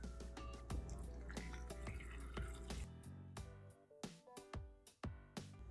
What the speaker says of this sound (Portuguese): Coloque água morna até cobrir.